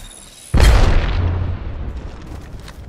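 A grenade goes off in a first-person shooter video game, a single loud, close boom with a sharp onset that decays into a long rumbling tail, alone with no voices over it.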